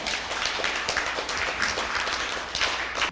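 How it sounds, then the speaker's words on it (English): Audience applause fills a conference hall, a steady wash of many hands clapping close and loud, with no talking over it, lasting about three seconds. "he deserved a round of applause."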